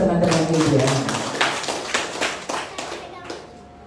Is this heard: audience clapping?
yes